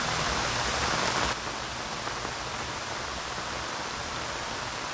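Rainstorm pouring over a campsite: a dense, steady hiss of falling rain, louder for the first second and then settling into a softer, even wash.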